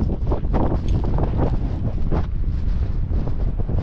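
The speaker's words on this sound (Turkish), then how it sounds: "Arkadaşlar biliyorum çok rüzgar var." Heavy wind roaring and buffeting directly against the microphone on a height above a marble quarry, loud and continuous with gusty fluctuations throughout.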